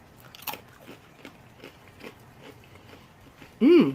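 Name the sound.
biting into salted roasted potato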